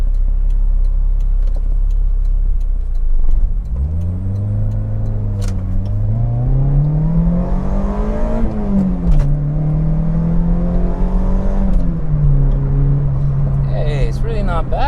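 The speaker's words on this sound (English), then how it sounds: "I can hear several noises coming from the suspension, so Rin and Victor, you need to probably cha" Peugeot 405 Mi16 or Corolla AE92 GT driving with worn suspension bushings, a steady low engine drone rising in pitch under the cabin rumble and knocks, with someone talking over it throughout.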